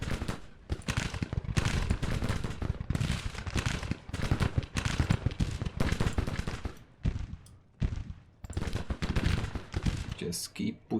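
Musket volleys in the Grand Tactician Civil War video game, dense overlapping crackling gunfire that runs almost continuously and is loud and close, with brief lulls near the end.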